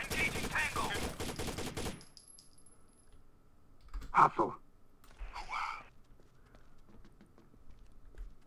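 A rapid burst of gunfire in the Osiris: New Dawn video game opens loud and dense for about two seconds, followed by a few sharp, scattered impacts and metallic clinks in a quieter space.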